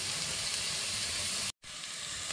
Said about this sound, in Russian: Пока наш лук обжаривается